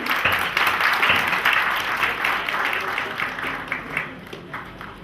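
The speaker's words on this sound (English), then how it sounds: "Please clapping" An audience claps steadily through a college fest ceremony as flowers are handed to the chief guest, a dense, continuous wash of applause with faint voices mixed in underneath.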